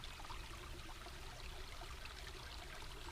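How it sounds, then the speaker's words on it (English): A stream flows steadily near a dam, its faint, even rushing and trickling texture continuing unbroken with no voices. "that's a good bit of water flowing"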